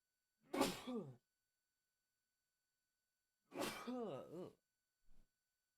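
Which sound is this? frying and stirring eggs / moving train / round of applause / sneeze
sneeze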